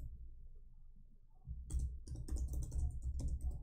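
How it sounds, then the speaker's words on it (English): Quiet room tone, then rapid clicking of computer keys in an irregular burst of typing, close and fairly crisp. "I don't know why this typing is so slow."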